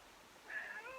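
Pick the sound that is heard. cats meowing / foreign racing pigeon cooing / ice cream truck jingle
cats meowing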